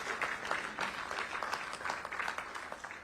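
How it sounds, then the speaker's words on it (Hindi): An audience at a political gathering in Jaipur gives loud, sustained applause to welcome C.R. Patil: many hands clapping in dense, rippling waves that carry on without pause. "इसके लिए जोरदार तालियों के साथ सी.आर. पाटिल जी का स्वागत।"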